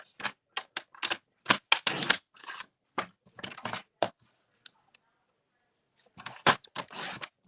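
A paper trimmer cuts a piece of card for a card's inside panel, giving a run of short, crisp clicks and scraping swipes in quick clusters, with a quiet pause before a final burst.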